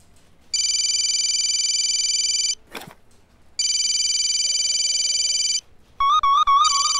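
A telephone rings in a TV drama scene: two long, steady electronic rings separated by a pause, then a shorter warbling ring tone, clear and close with no talking over it.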